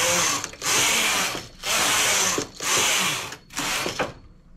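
A domestic knitting machine has its carriage pushed back and forth across the needle bed to knit rows of a lace top. It makes four loud, even whirring passes separated by short pauses.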